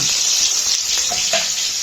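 Loud, continuous sizzling of fish frying in a pan, heard up close, with a couple of faint clinks as it's moved around.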